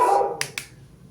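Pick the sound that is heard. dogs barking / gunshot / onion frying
dogs barking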